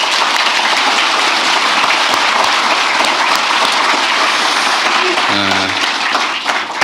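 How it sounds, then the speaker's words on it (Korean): Loud, sustained applause from a room of civil servants at a presidential address, dense clapping filling the whole stretch with a brief low voice near the end. "우리 동료들을 위해서 박수 한번 부탁드립니다."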